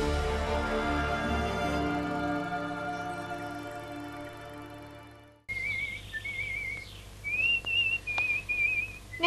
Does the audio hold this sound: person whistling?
yes